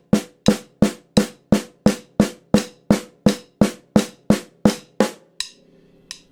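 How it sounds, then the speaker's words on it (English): A drum sounds a steady run of about thirteen evenly spaced quaver strokes at 85 beats per minute, each hit crisp and decaying quickly, then stops with a faint trailing rattle. "if I play quavers,"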